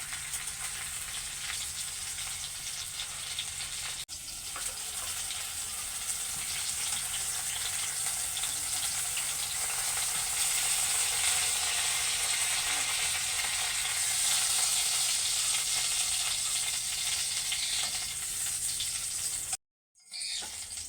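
Pieces of pointed gourd (potol) fry steadily in hot oil in a small wok, giving a continuous close sizzle and crackle that holds level for about twenty seconds before a brief cutoff near the end.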